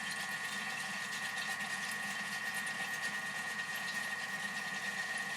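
Thermomix blades spinning in the mixing bowl while oil is dribbled in to emulsify homemade mayonnaise, a steady whirring motor hum with a constant high whine, moderate and unbroken, no voices.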